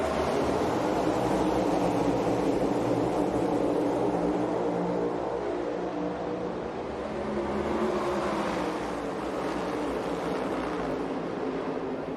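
NASCAR Cup Series race cars racing at Michigan after the green flag, a dense continuous engine roar from the pack, loud and steady for the whole stretch with a slight swell and fade near the middle, crowd noise blended in, no voices.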